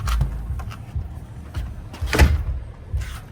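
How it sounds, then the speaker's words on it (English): A door in a house under renovation is locked, with a series of short knocks and clunks of the handle and latch, then a sharper metallic click near the middle. The sounds are close and isolated, with no talk. "let me lock this door"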